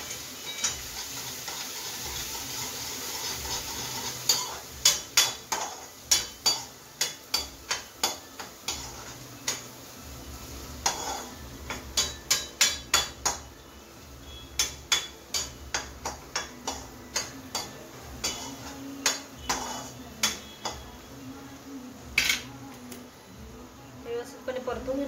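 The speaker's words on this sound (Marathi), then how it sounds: "त्यामध्ये थोडासा कढीपत्ता व्यवस्थितपणे परतून घेणार आहोत।" Curry leaves and spices sautéing in a pan for Mumbai-style vada pav: a soft sizzle under sharp, irregular taps and scrapes of a spoon against the pan. Someone speaks throughout.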